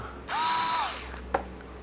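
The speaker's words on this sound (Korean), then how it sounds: "요 싱싱이에 어울리는 전동 드라이버 제 1픽은 요거다" An Aimsak mini electric screwdriver whirs up to speed with a high motor whine for about half a second, then winds down, followed by a single sharp click near the end.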